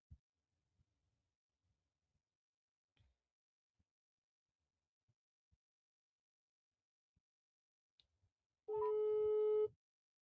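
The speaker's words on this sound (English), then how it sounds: "That's how the phone rings over here in Europe" A European telephone ringing tone sounds near the end, a loud steady harmonic beep lasting about a second after long near-silence broken by faint scattered clicks.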